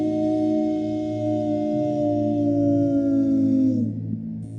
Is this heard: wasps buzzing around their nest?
no